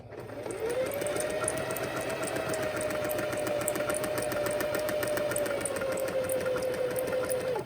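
A sewing machine stitches zig zag lines in a steady, continuous mechanical whir with a fast repeating needle rhythm. It is heard close and alone, with no talk.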